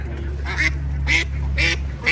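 Ducks on a farm raising CP Super laying ducks, quacking in four loud, close, evenly spaced bursts over a steady low background hum.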